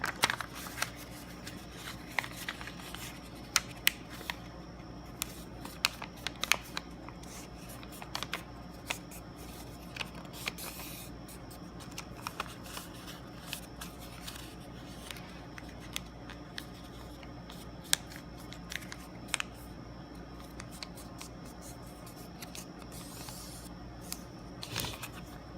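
Sheet of paper being folded and creased into a grid, a continuous soft rustle with frequent crisp crackles and taps, close and fairly quiet with no talk.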